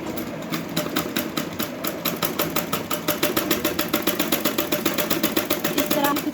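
A sewing machine stitches a blouse sleeve in a fast, even run of mechanical clicks over a low motor hum. It stays close and steady throughout.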